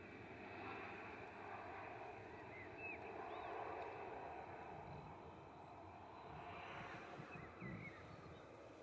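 Ryanair airliner from Belfast at Manchester Airport, a faint, fairly distant engine rumble and hiss holding steady, with small bird chirps above it and no talking.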